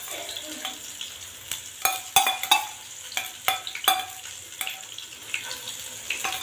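Garlic ginger paste sizzling in hot oil for chicken korma, with a spoon clattering and scraping against the pan in irregular bursts, close and clear.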